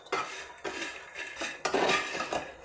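Fox nuts (makhana) tossed in a pan until crispy, heard as close bursts of rattling and scraping against the metal, with short pauses between strokes.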